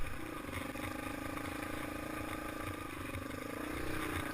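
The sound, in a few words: Yamaha XT225 motorcycle riding on trail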